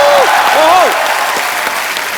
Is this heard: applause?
yes